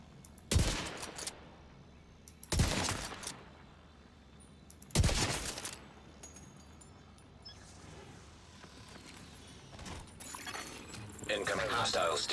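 Three heavy gunshot bursts from a video-game weapon fired at an armored hostile, spaced about two seconds apart, followed by quieter mechanical clatter and a rising busy stretch at the end.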